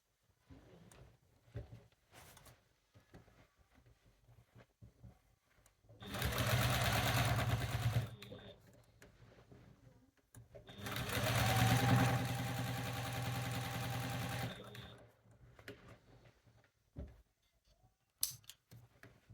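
A sewing machine stitching a quilt runs in two steady whirring bursts of a couple of seconds each, with quiet handling noises and brief pauses around them.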